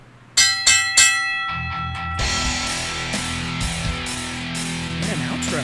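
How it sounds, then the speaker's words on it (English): A bell rung three times in quick succession to close a pro wrestling talk show, the strikes loud and ringing, followed by a dense, sustained metallic clamor that continues to the end. "Ring that bell, baby."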